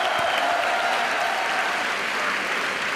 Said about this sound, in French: On applaudit Captain America qui s'est quand même vaillamment battu.